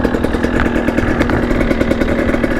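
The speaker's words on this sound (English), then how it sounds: "Just want to kind of do a couple laps to warm up the bike" A motorcycle engine warms up before trail laps at Whisky Gap, with a loud, close, rapid burbling idle and rhythmic exhaust pulses that stay steady throughout.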